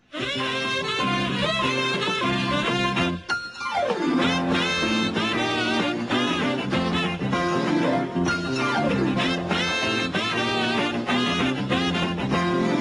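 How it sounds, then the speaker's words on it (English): A bouncy, upbeat saxophone-led theme tune from Only Fools and Horses series 1, a lively melodic lead over a full backing band, playing continuously and loudly throughout. "The show originally in Series 1 had a kind of jaunty saxophone theme"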